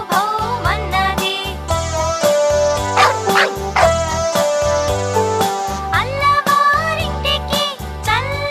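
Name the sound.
dog barking in a children's song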